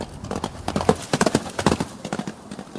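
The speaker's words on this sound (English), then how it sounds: "Kirk jumps a ravine on the horse." A horse's hooves strike in a quick, uneven galloping clatter, a close, loud clip-clop that carries through the whole stretch with no voices.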